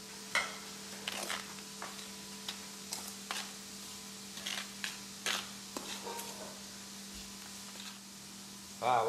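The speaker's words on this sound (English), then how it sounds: "then you just stir them up" A spoon stirs food in a pot at home, making scattered faint clinks and scrapes in an irregular rhythm against quiet background hum.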